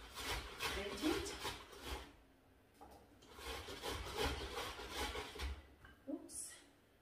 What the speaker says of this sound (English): I'm going to grate that because the only thing I want from this tomato is it's just the sauce of it all